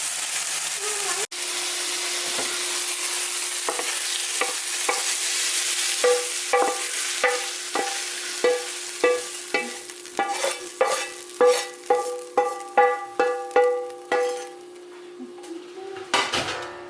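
Beef tripe sautés in a pan under a steady sizzle, while a utensil stirs and scrapes with a run of sharp rhythmic clacks against the metal that grow louder and quicken toward the end.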